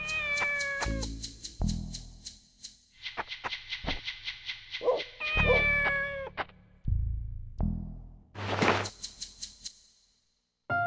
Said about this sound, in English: It must be that kitten. She's close.